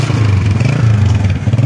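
A Honda CG125 motorcycle with a black-smoke fault runs loudly up close, its single-cylinder engine making a rough, fast, steady chugging putter.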